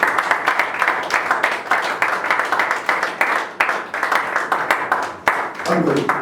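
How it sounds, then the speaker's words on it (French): A church congregation claps together in a loud, steady rhythm that fills the room and continues throughout, with voices mixed in underneath the clapping. "On acclame pour la parole du Seigneur."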